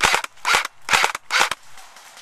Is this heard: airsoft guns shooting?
yes